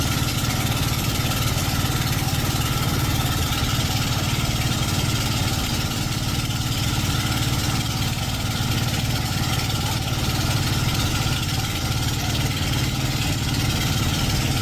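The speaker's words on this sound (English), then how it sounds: "The semi is slowly reversing into position." The engine of an 18-wheeler semi truck slowly reversing into position at a crash scene on a foggy mountain road, a constant, fairly loud low diesel drone that holds steady throughout.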